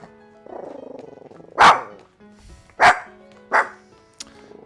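Toffee the dog barks at gardeners through a window, three loud, sharp barks spaced about a second apart over a faint background hum, with a quieter yip at the end.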